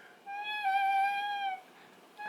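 A dog gives a single drawn-out, high whine that rises slightly and holds for over a second before trailing off. It is close and clear, with no talking.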